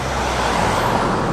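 A car drives past on a main street in the Philippines, a steady, loud road rumble with traffic noise close by and no voices.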